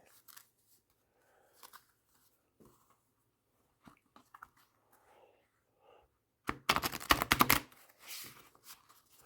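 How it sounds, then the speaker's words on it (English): A deck of 1986 Mythic Tarot cards is shuffled, with a dense burst of riffling and flicking near the end after scattered soft handling taps and rustles, close and fairly quiet. "now let us see how they shuffle"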